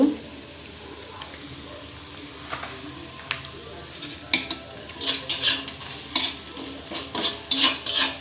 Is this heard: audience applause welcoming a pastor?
no